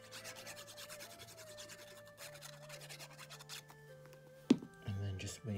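Paper strips glued onto a gift box are rubbed and pressed down by hand, giving soft repeated scratchy rubbing sounds close up, with a sharper thump near the end, under background music.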